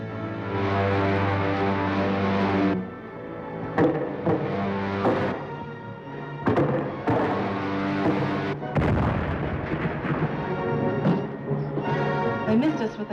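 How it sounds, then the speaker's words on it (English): Heat ray blasts fired from a spaceship in a 1940 science-fiction film serial, heard as loud, booming bursts and crackling discharges over a sustained droning hum. "They missed us with the heat ray."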